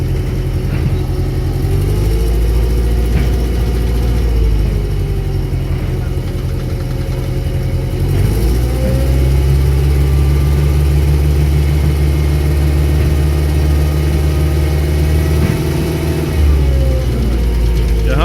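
A motor-driven winch hauls an accident-damaged vehicle up on a cable during a recovery in Oman. A loud engine drone rises and falls as it works, with low rumbling throughout.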